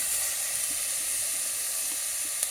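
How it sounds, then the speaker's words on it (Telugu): Tomatoes and mutton frying in a hot pan, giving a steady, bright sizzle that holds evenly throughout, close and moderately loud with no talking. "ఇప్పుడు టమాటా పళ్ళు వేస్తున్నానండి, వేసి మటన్ వేసేస్తాను."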